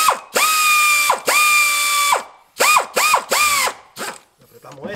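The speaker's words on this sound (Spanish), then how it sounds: "Okay, vamos a apretar acá un poco." Ratchet wrench tightening bolts during an engine swap on a 2010 Subaru Forester: several loud, close bursts of rapid clicking, separated by short pauses, with quicker fragmented strokes toward the end.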